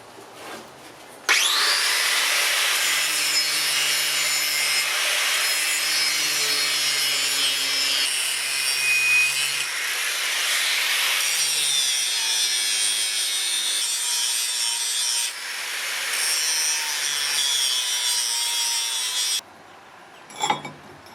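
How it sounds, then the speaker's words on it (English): A san mai Damascus steel billet is ground to remove cracks, the grinder roaring loudly and steadily for most of the span with shifting pitch as pressure changes, stopping briefly near the end. "So what I'm going to do is grind out those cracks where it has teared, see how deep it goes"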